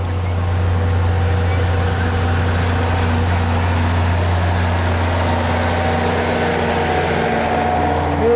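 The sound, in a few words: Allis-Chalmers tractor engine running at a festival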